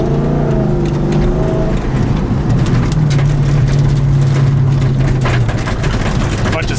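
A 500HP Dodge Magnum Scat Pack wagon in sport mode accelerates hard from inside the cabin, a loud continuous engine roar rising in pitch while loose items rattle in the back.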